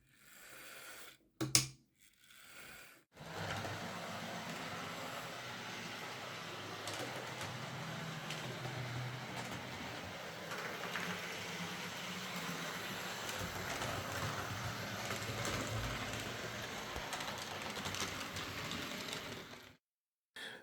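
Serviced Hornby model railway locomotive running on track, a continuous mechanical whir and rattle that holds steady for about sixteen seconds after a few brief handling knocks, close and moderately loud with no speech.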